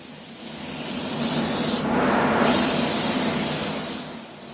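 A spray gun lays down a wet, flowing second coat, giving a loud, steady close hiss of atomized spray that dips briefly midway and then continues, with no voices.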